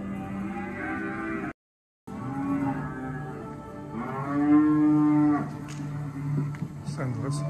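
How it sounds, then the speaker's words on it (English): Cattle at a livestock sales yard moo repeatedly, with long low drawn-out calls rising over a steady background hum and a brief dropout, loud and fairly near. "Sounds like some cows in here."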